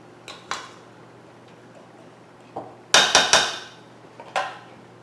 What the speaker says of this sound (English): I'm going to just go through and fluff the rice a little bit.